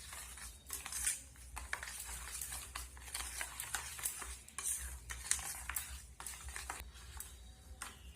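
Sugar and salt being stirred into ripe mango pulp in a bowl, a steady run of scraping, clinking spoon strokes with brief pauses, close and fairly quiet, no voices.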